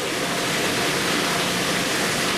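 Water rushes through a plate chiller used to cool wort in a brewery, making a loud, constant hiss with no pauses or voices.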